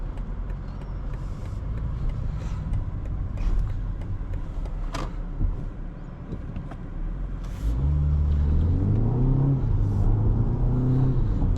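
A 2025 BMW 228 xDrive accelerating from inside the cabin, a steady loud engine drone and road roar that swells and climbs in pitch as it revs up near the end.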